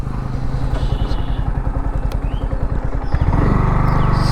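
Yamaha R15M motorcycle engine revving hard in first gear, a loud rapid pulsing exhaust that climbs steadily, then settles into a steadier roar near the end.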